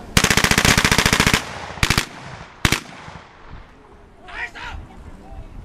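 Gunfire at a border arrest demonstration: a loud, rapid automatic burst, then two shorter bursts, followed by a brief stretch of talk.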